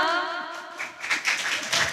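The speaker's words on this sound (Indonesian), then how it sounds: "Oke, tepuk tangan dong." A short round of clapping rises at a youth health dialogue event on anemia, scattered hand claps following a brief spoken bit and growing in density.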